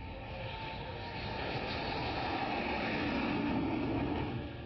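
Indian Air Force fighter jets roar over the Agra-Lucknow Expressway during an emergency landing exercise, giving a steady, broad engine rumble that builds slightly and holds loud throughout, with no speech.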